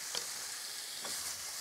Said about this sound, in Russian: Перемешиваю прямо в сковороде